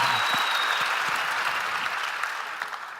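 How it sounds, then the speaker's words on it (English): A live podcast audience applauds in a steady wash of clapping that tapers slightly toward the end, with a few claps popping out near the close. "But do a round of applause"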